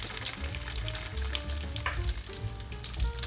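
Japanese gyoza dumplings pan-frying as the water cooks off, a loud, steady crackling sizzle close to the pan with popping spatters throughout and no talking.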